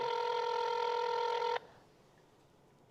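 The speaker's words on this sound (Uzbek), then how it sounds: "Lutfullayev Sobir, telefonni oling" An outgoing phone call's ringing tone sounds as one steady electronic ring for about a second and a half, then cuts off into quiet line hiss.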